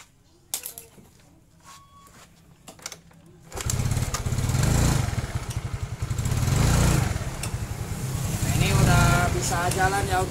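A carbureted Yamaha Mio scooter engine, recently troubled by sputtering and hard starting, catches after a few scattered clicks and runs with a loud, steady putter that revs up and down close by.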